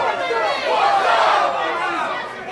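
A wrestling crowd at the Jameel Temple roars and cheers throughout a 2006 TNA match, a loud, continuous wash of voices with shrill whoops rising and falling.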